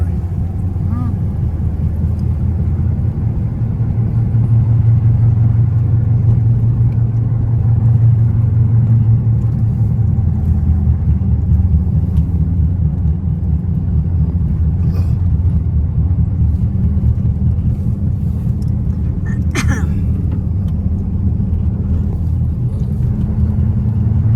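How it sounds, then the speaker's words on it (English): Steady low road rumble from a vehicle's knobby tires, continuous and fairly loud throughout, with engine drone underneath and no talking. "You sure hear those knobby tires on this thing."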